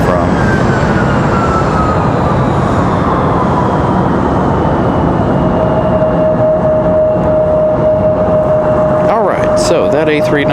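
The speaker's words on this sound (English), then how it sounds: "Got an A321 speeding out of here." An Airbus A321 jet speeds down the runway on takeoff at Raleigh Durham International, a loud continuous roar with rising and falling whine tones, heard outdoors with a voice talking over it.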